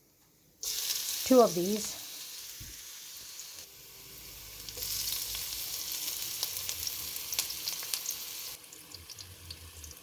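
Ginger dropped into hot oil for veg manchurian, with a sharp sizzle bursting in, then a steadier frying crackle. A brief voice is heard near the start, and stirring and a later louder sizzle follow.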